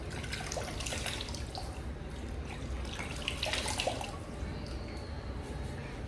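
Hot water runs from a bathroom sink tap in a continuous splashing stream with occasional drips, steady and fairly close throughout.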